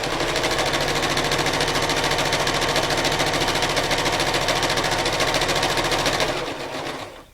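A sewing machine runs steadily, stitching a straight line over fabric for a gameboard grid, a fast even needle chatter that carries on for about six seconds and then stops.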